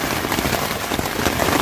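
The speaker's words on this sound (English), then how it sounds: "it could stop raining anytime now" Steady, heavy rain pattering on a riverside camp, a dense continuous hiss of drops close by with no pauses.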